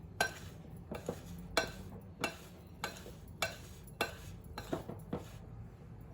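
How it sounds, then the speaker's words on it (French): A utensil knocks and scrapes against a bowl while icing sugar and other ingredients are mixed into dough for cornes de gazelle, in regular, close clinking strokes with quiet rubbing in between. "On mélange tout ça bien, correctement."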